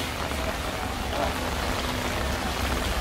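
Soft, even hiss of rain falling steadily at Tianzi Mountain in Zhangjiajie, a faint continuous patter with no other sounds standing out.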